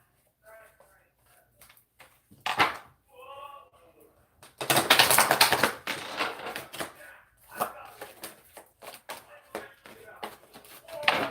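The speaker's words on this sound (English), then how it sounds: "So I'm going to shuffle here." A tarot deck is shuffled in bursts of papery riffling and flicking, loudest in one long sustained stretch partway through, with a person talking in between the card sounds.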